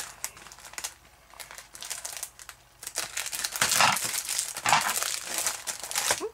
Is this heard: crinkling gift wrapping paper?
yes